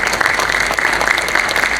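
Dense, even applause from an audience clapping for students at an inspirational talk, a steady close wash of many hands with no voices over it.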